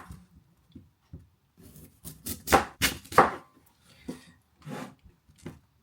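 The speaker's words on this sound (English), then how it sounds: "Let's cube and chop these potatoes." A knife cuts potatoes into cubes on a board with a series of close, crisp chops, some soft and scattered and a few heavier strikes in the middle, with quiet gaps between them.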